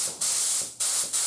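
A paint spray gun lays clear coat on car body parts, including widebody flares for a Supra, in a garage. Three close, loud hissing bursts come in quick succession, each fading slightly before the next.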